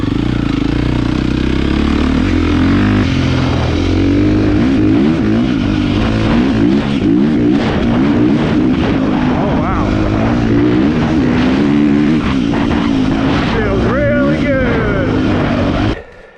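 A 2023 KTM 350XCF dirt bike is ridden through desert whoops, its engine loud and close, revving up and down constantly over the bumps for the whole stretch with no pause.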